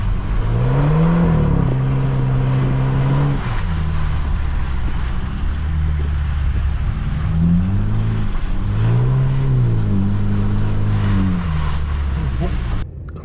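A car engine revs up and down in long rising and falling sweeps while drifting on snow, loud and close, with a steady hum of wind and road noise underneath.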